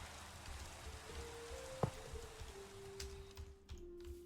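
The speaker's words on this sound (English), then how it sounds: "I don't think rain's ideal for when you're recording" Minecraft rain falls as a steady, faint, even hiss, with a few soft ticks and one brief click scattered through it and no one speaking.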